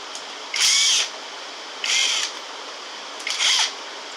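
A power tool driving out a 10mm bolt to remove the timing belt tensioner on a Honda J30A5 engine, heard as three short, close whirring bursts separated by quiet pauses.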